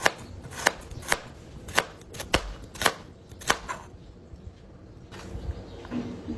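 Carrot is chopped into pieces with a knife on a board, about eight sharp, fairly close chops in an uneven rhythm, then a few softer taps after a quiet pause.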